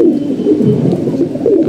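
Pigeons coo steadily in a loft, a dense layer of low, rolling calls close by, with no voices over them.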